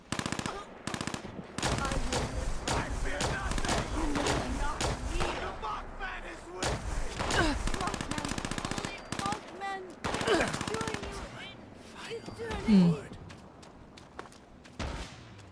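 Heavy guns in Fallout 76 fire in rapid bursts of sharp, loud automatic shots with brief pauses between volleys, some footsteps in between, and a voice talking over the gameplay.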